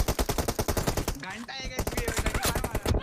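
Rapid automatic gunfire from a Free Fire team deathmatch fight rattles out in dense, evenly spaced bursts with a brief pause midway, while a voice talks over the shooting.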